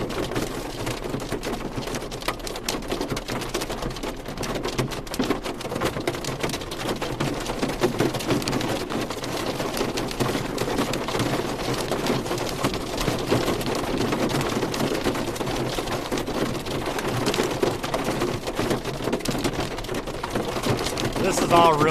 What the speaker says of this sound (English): This is all really, really small hail. Not even pea size.